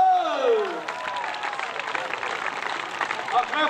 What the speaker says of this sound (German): Ein kräftiger Applaus für ihn!